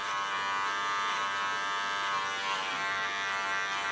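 Electric hair clippers trimming the back of someone's hair in a salon, a steady close buzz running without a break and alone.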